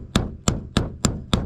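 A knife blade is tapped lightly into a delicate piece of wood, five evenly spaced sharp knocks about a third of a second apart, close and fairly loud with no voices.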